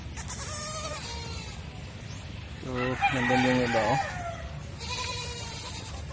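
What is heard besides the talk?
goats bleating on a farm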